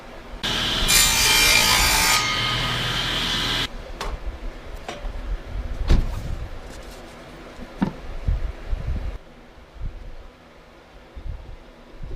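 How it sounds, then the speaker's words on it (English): Sawing through quarter-inch wood stock for seed storage box panels, a loud power-saw burst early on followed by scattered knocks, scrapes and handling of pieces. "so now it's time to cut the pieces for the top and the bottom"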